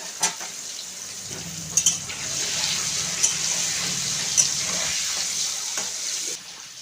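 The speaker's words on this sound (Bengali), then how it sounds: "আমি আলুটা ভেজে নেবো একটু ঢাকা দিয়ে দিয়ে ভাজবো" Salted potato pieces frying in a pan, a steady broadband sizzle running throughout with a few sharp crackles and pops, fairly close and continuous, ending abruptly; no talking.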